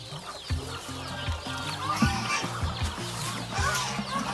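Busy duck calls overlap continuously at feeding time, with low repeated quacks and clucks and scattered higher calls, close and steady, with no talking.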